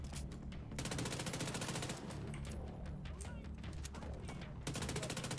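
Continuous rapid bursts of RPK machine gun fire in The Division 2, loud and close, the rattling shots running almost without a break.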